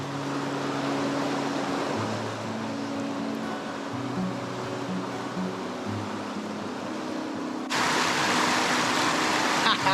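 Rushing water of river rapids near Crystal Falls on the Fales River, a steady broadband roar throughout that swells louder near the end, with someone talking over it.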